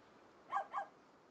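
In the game Carto, a dog gives two quick, soft barks about a quarter second apart over a faint, steady background hum.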